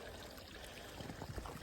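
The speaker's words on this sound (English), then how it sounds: "little water source here" A small stream trickles at a water source along the Appalachian Trail, a faint, steady, close-up babble with no voices.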